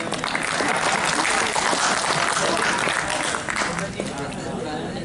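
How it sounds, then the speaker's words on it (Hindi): Audience at a Dainik Jagran Hindi poetry festival applauding after a poem recitation, a dense, loud crowd of clapping that holds steady for several seconds before thinning slightly near the end. "कविता खत्म हुई, ताली बजाओ।"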